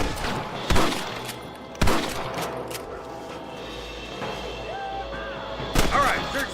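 Sporadic loud gunshots crack out in a Red Dead Redemption camp shootout, with a handful of sharp reports spaced over several seconds amid faint background noise and brief distant voices.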